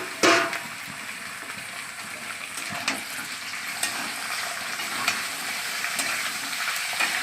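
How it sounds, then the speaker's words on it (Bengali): Chicken pieces tipped into hot oil with bay leaves, cloves and cardamom for a black pepper chicken, giving a steady sizzle with a few scraping stirs and clatters; no talking. "দুটো তেজপাতা দিয়ে দিচ্ছি। এই মাংসটা ঢেলে দেবো। এখানে 700 গ্রাম মাংস আছে।"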